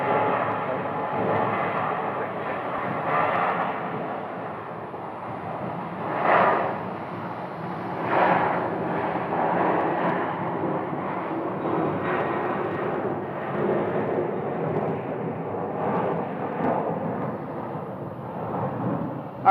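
Aircraft pass at Sky Harbor airport, with a continuous rumbling jet roar that swells and fades in several surges, at times loud and close, with no voices over it.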